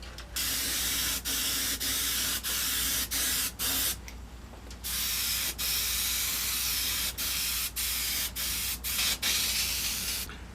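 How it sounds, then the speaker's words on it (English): An Iwata airbrush sprays paint onto trim on motorcycle fairings, a close, loud hiss in short repeated bursts separated by brief pauses, with a steady low hum underneath. "try to hold the airbrush 90 degrees to what you're painting, so that the paint doesn't tend to blow up under the tape edge"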